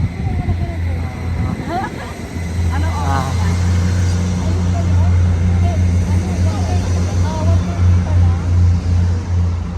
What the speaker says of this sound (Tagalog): Ayan ang dalawa.